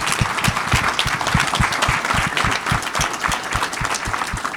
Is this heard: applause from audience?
yes